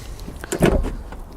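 Manual crank window on a Mercedes 240D, a short run of soft mechanical whirring and scraping from the window regulator, close by and with no talk.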